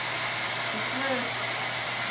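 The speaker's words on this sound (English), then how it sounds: "The hair dryer is loosening up the grout and silicone seal" A hair dryer blows steadily and close, aimed at the grout and silicone seal around a toilet base to loosen it; a brief faint murmur rises partway through.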